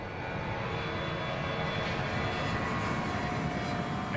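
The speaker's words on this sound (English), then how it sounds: "It's probably one of the best 757s built, probably one of the best corporate airplanes built." Steady, continuous engine roar from a Boeing 757 corporate jet, heard as a dense broadband rumble and hiss with a faint high whine, unbroken and even throughout, with no talking.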